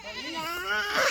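A single goat bleats up close, a wavering nasal cry lasting about a second and growing louder at the end.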